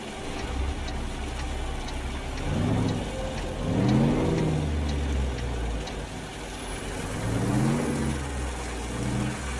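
Mack EA9 610-horsepower diesel engine in a Mack RD800 truck in American Truck Simulator, running with a low, steady rumble that swells and eases a couple of times, alone and without talk.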